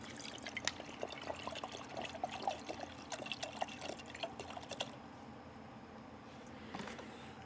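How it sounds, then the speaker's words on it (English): About two cups of water pour and splash from bottles into a cooking pot for several seconds, then stop, leaving quiet room tone. "These water bottles have about 2 cups of water in them, so I'll go ahead and pour that."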